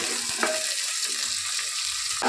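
Tomatoes added to a pan of cooked vegetables for fried masala vegetable pulao sizzle and fry with a steady hiss, a few faint stirring clinks over the continuous frying close by, no voices.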